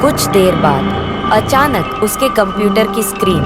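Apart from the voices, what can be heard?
No everyday noises stand out.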